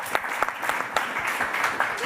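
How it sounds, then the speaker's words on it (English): A seated audience at a Geneva conference on financing for development applauds with steady, moderately loud clapping. Individual claps stand out from the mass, and some murmuring runs underneath. "and a round of applause."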